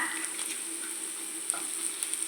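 Country chicken egg fry sizzling steadily in a pan, a constant bright frying hiss with a few small pops and crackles, close and even throughout.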